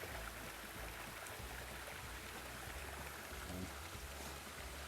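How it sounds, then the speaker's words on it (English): Steady broadband rush of a waterfall or mountain stream beside the Appalachian Trail on a southbound thru-hike, a constant close wash of falling water with no talk. "this waterfall is following us all the way up"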